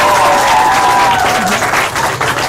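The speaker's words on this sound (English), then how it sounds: "Ladies and gentlemen, let us cheer Nigerian-Egyptian School." Loud crowd applause for the winning school on a Nigerian school quiz show, dense clapping throughout with a brief tonal sound near the start.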